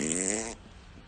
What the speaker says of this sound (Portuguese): alguém soltou um pum barulhento